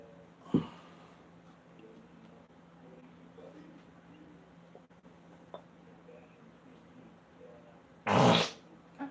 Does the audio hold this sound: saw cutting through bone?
no